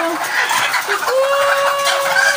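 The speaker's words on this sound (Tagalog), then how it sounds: "yung manukan. Nagkakagulo sila" Chickens in a coop of small laying-hen cages cluck and squawk close by, several birds overlapping in an agitated chorus, with one drawn-out call rising above the rest.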